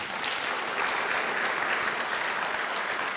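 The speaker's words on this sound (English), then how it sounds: "can we please give a round of applause for Zimbri again?" Audience at an art talk on Bhutanese art applauding the artist, a steady, even wash of clapping from a full room, fairly close, with no talk over it.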